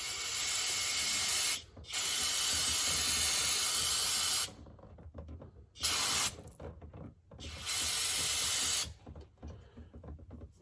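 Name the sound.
aerosol brake cleaner sprayed on rear brake parts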